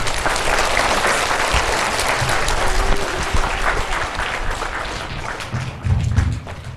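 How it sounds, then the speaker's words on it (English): Sustained applause from a crowd at an assembly, dense and loud, holding steady for several seconds with a few thumps near the end. "Please give her a round of applause."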